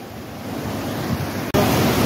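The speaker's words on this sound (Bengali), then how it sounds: "এইদিকে এত সুন্দর ওয়াটারফল" Continuous loud roar of a waterfall close by on the road to Lachung, North Sikkim, steady and broadband, with a brief dropout near the end before resuming.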